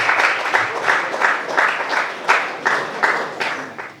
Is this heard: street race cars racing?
no